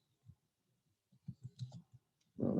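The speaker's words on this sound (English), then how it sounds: "I'm also bad at typing on my laptop keyboard." Keys clicking on a laptop keyboard while a folder is being set up, a short run of soft, irregular taps, quiet and close, ending in a louder burst of noise.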